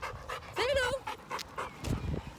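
A dog pants and whimpers outdoors on a rainy walk, quick breathy puffs with a brief high whine, close by and mixed with a person's voice.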